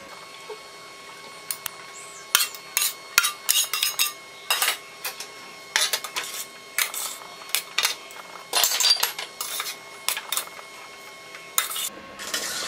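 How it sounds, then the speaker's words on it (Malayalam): A metal spoon stirs cooked rice into sautéed carrots in a pan with the heat off, producing irregular bursts of clinks and scrapes against the pan over near silence, with no voices. "ഇതിലേക്ക് ചോറ് ചേർത്ത് ഇളക്കാം."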